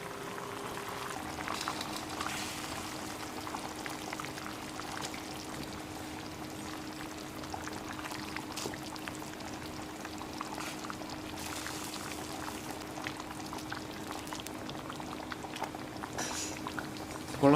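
Tamarind fish curry in a pot bubbles steadily at a close, moderate level, a continuous busy gurgling and popping simmer with a faint hum beneath and no voices.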